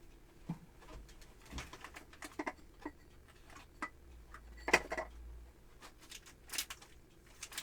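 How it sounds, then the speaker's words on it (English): A novelty chicken clock gives off soft bird calls, cooing and clucking tones in short bursts against a quiet room background, with faint ticking between them and no one speaking. "It's my chicken clock."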